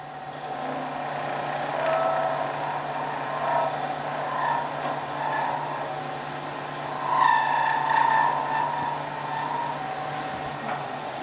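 A metal lathe turns a part during a grinder build, giving a steady, continuous motor drone with a faint whine and brief higher scraping tones from the cut, fairly close and unbroken throughout.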